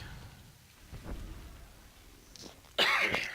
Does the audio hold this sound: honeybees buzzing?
no